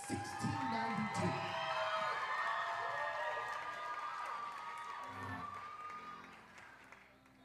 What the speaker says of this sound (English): One more huge round of applause for Salem 1692.